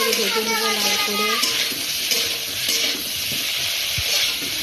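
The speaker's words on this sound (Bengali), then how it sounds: "এখন আমি আলুগুলো ভেজে নিচ্ছি" Potatoes frying in hot oil for a potato and egg curry give a steady close sizzle and stirring, with a brief voice heard early and some clatter throughout.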